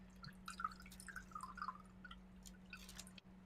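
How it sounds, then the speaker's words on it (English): An Applejack Rabbit cocktail is poured into a chilled coupe glass, making a faint, soft liquid trickle and light drips over a steady low hum. "I'm going to go ahead and pour it into a chilled coupe glass."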